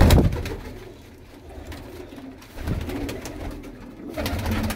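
Pigeons in Faisalabad give low, soft coos, close by and repeated in waves, with faint rustling between calls.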